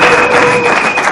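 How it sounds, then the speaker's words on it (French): Audience applause at a conference hall gathering, a dense, loud wash of clapping that holds steady for the whole short stretch. "Encore une fois, si on peut applaudir."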